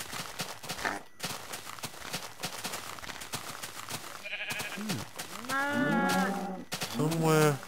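Cows moo in Minecraft, drawn-out lowing calls rising near the end, loud and close, preceded by a stretch of busy game noise and footsteps.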